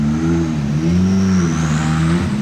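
A rally car at the Monte-Carlo Rally 2025 reversing in town, its mid-pitched engine droning loud and close with small shifts in pitch.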